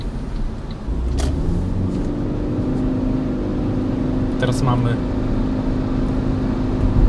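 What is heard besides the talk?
Toyota Prius cabin noise driving before sound insulation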